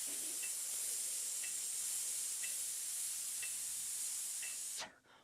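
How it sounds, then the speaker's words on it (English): A steady, breathy hiss of exhaled air is held for close to five seconds as part of a breathing exercise, with faint regular ticks in the background, before it cuts off abruptly. "let's practice it on a hiss exhalation pattern"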